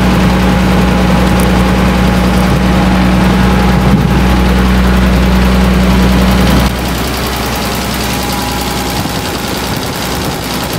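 A 1973 Diamond REO truck engine in need of a fuel pump runs steadily nearby, a loud low rumbling idle with a droning hum that shifts to a slightly lower, quieter tone partway through.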